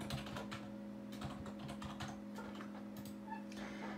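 Computer keyboard keys clatter in quick irregular bursts while someone codes in Java, close and fairly quiet over a steady low hum, with brief pauses between runs.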